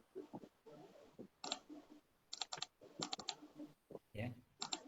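Computer keyboard typed in short bursts of quick clicking keystrokes, close and fairly quiet, separated by pauses, with a voice speaking softly between the bursts.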